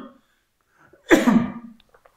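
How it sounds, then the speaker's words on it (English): A single loud, close cough from a man bursts out once in an otherwise quiet room, with a short breathy tail as it fades. "I'm just going to have a cough"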